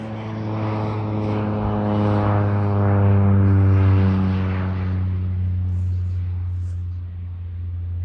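Crop-spraying airplane applying fungicide over a corn field, a sustained propeller-engine drone with a strong steady hum, swelling as it passes nearer mid-way and then fading into the distance.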